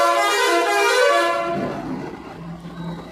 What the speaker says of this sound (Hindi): हॉर्न देख रहे हो कितना मारता है?